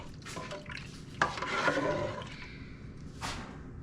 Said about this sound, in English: we're going to add about 3 cups of water